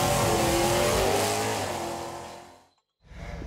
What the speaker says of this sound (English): It's just a Nova with a 350 in it.